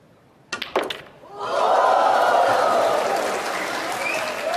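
Snooker spectators at the Xi'an Grand Prix 2024 final burst into loud, sustained applause after a few sharp clacks of balls, the clapping swelling quickly and holding strong.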